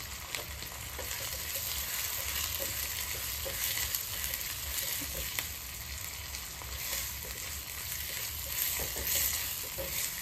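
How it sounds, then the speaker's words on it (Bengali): Chillies frying in mustard oil in a pan, a continuous quiet crackling sizzle with faint stirring scrapes, alone and without talk. "আমাদের মরিচ ভাজা হয়ে গিয়েছে"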